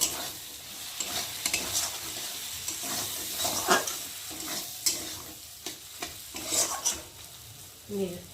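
Chow mein being stirred in a pan with soy sauce, a steady frying sizzle broken by repeated scraping and clinking strokes of a utensil, close and fairly loud, with no talking.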